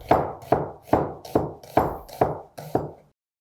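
A knife chops vegetables on a cutting board during noodle prep, seven steady, evenly spaced close thuds with crisp attacks, then silence.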